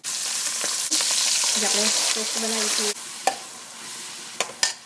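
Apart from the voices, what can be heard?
whole red chillies and bay leaf roasting in a pan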